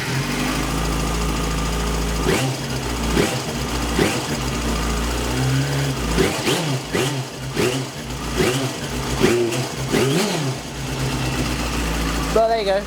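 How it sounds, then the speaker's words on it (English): A Yamaha Fazer motorcycle engine idles steadily with a low continuous rumble, rising in a few short revs and blips midway, close and loud, with a voice speaking intermittently over it. "Now put the key in the ignition, turn it on."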